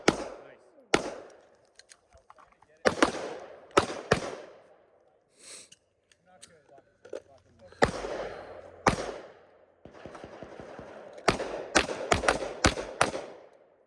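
Pistol shots at an outdoor shooting range, sharp loud cracks fired singly and in quick clusters, with quieter handling noise and murmured talk in the gaps.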